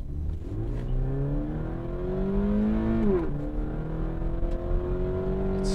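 A 2020 Toyota 86 GT accelerating hard in sport mode, its engine note rising loudly through the revs, dropping briefly at a gear change, then climbing again, heard steadily from inside the car.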